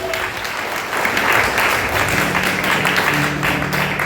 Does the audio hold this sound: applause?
yes